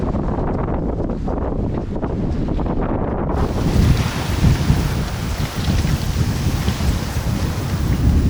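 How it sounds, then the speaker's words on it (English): Wind at sea buffets a small sailing boat on open water, a loud, continuous roar and rush across the microphone that grows fuller and harsher partway through, with no voices. "The wind has started to veer properly to the north now,"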